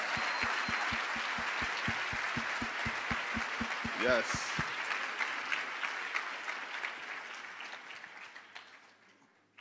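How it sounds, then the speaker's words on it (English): An audience at a gathering gives a round of applause for one another, a dense wash of clapping with a rhythmic unison clap pattern at first, then fading out as a voice calls out briefly. "let's hear a, a, round of applause, real quick, for each other for showing up"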